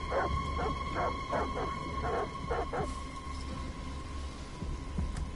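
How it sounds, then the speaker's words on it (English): Dogs in the video game Detroit: Become Human bark in a rapid cluster of sharp yips and barks early on, then fall quiet over a constant low background hum. "Why were the dogs barking at me?"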